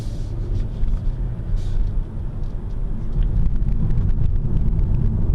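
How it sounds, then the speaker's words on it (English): A truck passes on the road while waiting to pull out, a broad rumbling roar with wind buffeting that swells louder toward the end, without speech. "Now when this truck goes by, now I'm gonna go."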